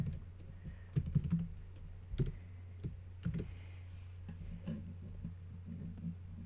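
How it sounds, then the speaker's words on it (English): Light typing on a computer keyboard, a few quiet clusters of key clicks with gaps between them over a low background hum. "You can type some stuff on it."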